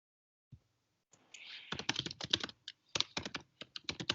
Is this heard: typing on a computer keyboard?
yes